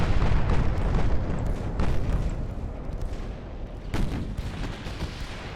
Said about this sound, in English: Got 15-inch guns here.